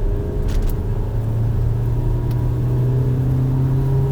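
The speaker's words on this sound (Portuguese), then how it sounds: "vamos acelerar, vamos sentir um pouquinho da saúde do motor THP" A Peugeot 3008 with the THP engine pulls hard in third gear on a wet road, a steady loud engine drone with rising pitch and continuous rain-soaked road rumble, no voices.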